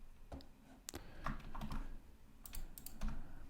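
A website address typed on a computer keyboard, sparse clusters of soft close key clicks with short pauses between, no speech.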